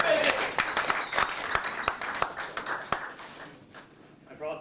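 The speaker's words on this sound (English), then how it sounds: "can we bring a round of applause for Keith and Justin?" Audience applause and clapping in a live comedy setting for Keith and Justin, a sustained patter of many hands with sharp individual claps, fading toward the end as a voice begins to speak.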